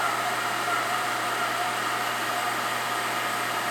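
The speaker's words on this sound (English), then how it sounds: "I'm going to start my spindle." A milling machine spindle runs with a steady, even hum and a broad whirring hiss, holding constant and fairly loud throughout with no speech.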